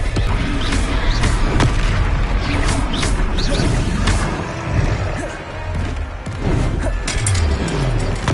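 Confringo blasting spells burst repeatedly in a Hogwarts Legacy battle, loud booming explosions and crashes layered over dense combat noise with no clear pauses.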